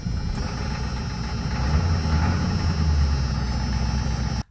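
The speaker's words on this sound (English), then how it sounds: "the truck still just fires right up" A 6.9 liter diesel truck engine idles close by, a steady low, heavy rumble with a slight rise in the middle before cutting off abruptly at the end, with no talking.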